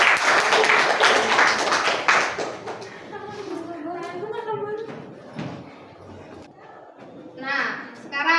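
Classroom audience clapping during a lesson activity, a broadband burst of applause for about two seconds that then thins into scattered claps amid children's chatter and movement.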